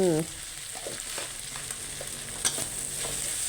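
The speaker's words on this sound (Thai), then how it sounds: "ผัดให้เข้ากันไปเลยค่ะ" Minced beef stir-fried with seasoning powders and sugar in a pan for dry basil beef, a steady close sizzle with occasional spatula scrapes and clinks, no talking.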